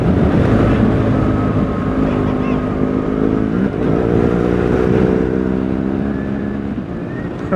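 A car rolls along a gravel road on a road trip in the south of France, with a steady low engine drone and continuous crunching road noise throughout, and no talk.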